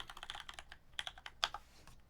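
Quick, light clicking of keys on a computer keyboard, irregular taps close up and fairly quiet.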